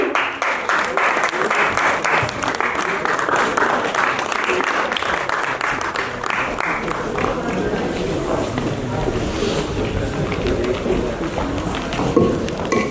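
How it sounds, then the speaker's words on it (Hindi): A large audience applauds steadily to welcome a guest onto the stage at a ceremony. The clapping is dense and sustained for the whole stretch, with faint voices under it. "ऑडियंस से अनुरोध करती हूँ जोरदार तालियों से हम इनका स्वागत करेंगे"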